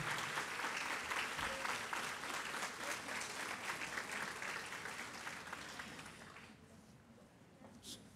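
A conference audience applauds during the opening ceremony of a human rights event, steady dense clapping filling the hall and slowly thinning toward the end.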